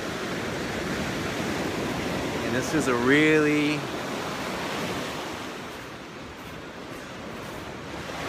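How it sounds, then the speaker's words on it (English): Pacific Ocean surf on the Sonoma County coast of California, a steady broad wash of breaking waves with wind rumble throughout, while someone speaks briefly over it. "Pacific Ocean, Sonoma County, California."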